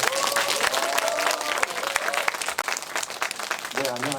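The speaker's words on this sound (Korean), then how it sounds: "다시 한번 큰 박수로 저희 모시게 된 이명현 박사님을 앞으로 모시겠습니다" An audience applauds steadily as a lecturer is welcomed to the front at an astronomy humanities talk, dense clapping carrying the full clip with some speech mixed in near the end.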